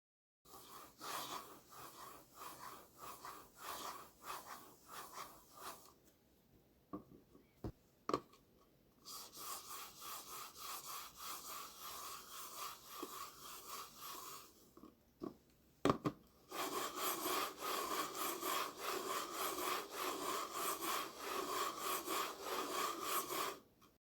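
A Pulsar X2 V2 Mini mouse on PTFE dot skates slides across a mousepad, making soft, dry scraping strokes in bursts with short pauses. The sound is quiet and close, with no talking.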